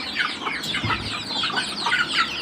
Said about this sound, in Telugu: ఈ కోడి దీనికే భయపడుతుంది